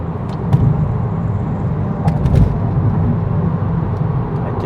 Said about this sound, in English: I quite like how you can hear some sort of fruity exhaust note from it